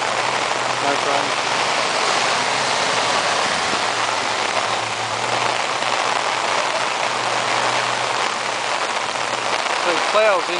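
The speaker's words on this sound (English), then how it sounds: "So it ploughs into the water instead of going in nice and steady." A 4WD ploughs through flood water at Wararba Creek on Bellmere Road, a loud, steady rush and churn of water over a low engine drone that continues throughout.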